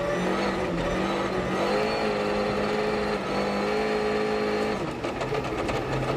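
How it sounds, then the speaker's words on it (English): Sébastien Ogier's World Rally car revs hard as it accelerates out of a hairpin on the Monte Carlo Rally 2013, a loud, continuous engine drone with a shifting pitch and no talk. "Scrabbling for grip out of the hairpin there"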